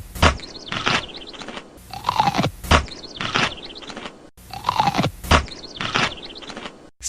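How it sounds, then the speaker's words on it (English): Crisp, wet crunches of a Vlasic pickle being bitten and chewed, close to the mic, in two repeated bursts of sharp snaps with squeaky, scraping textures between them. "And so that was the crunch of a Vlasic pickle."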